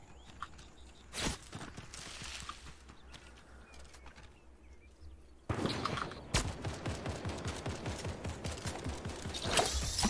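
Cover fire in the Fortnite video game: a quiet stretch with a single sharp shot, then a steady run of rhythmic gunshots growing louder and denser toward the end, moderately distant.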